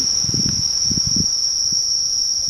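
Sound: cicadas emerging from the ground

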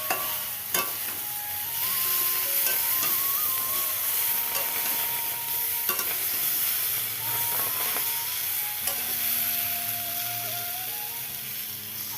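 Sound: vegetable curry frying and being stirred in oil

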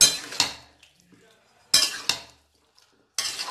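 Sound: mixing spices into chicken in a pot

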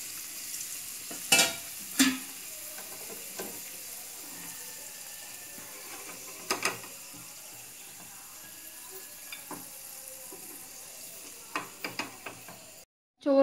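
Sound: frying masala for Kabali rice in a pan

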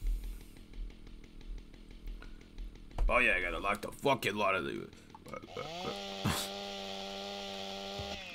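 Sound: chainsaw in video game GTA San Andreas

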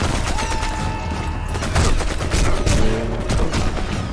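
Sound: gunfire in video game Sniper Elite 4

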